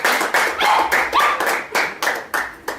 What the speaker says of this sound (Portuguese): Diga amém e dê uma salva de palmas.